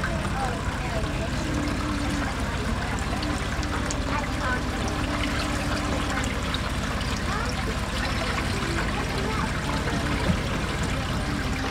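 Water runs from a hose into a bucket outdoors, a steady pouring trickle that continues throughout, with people talking faintly over it.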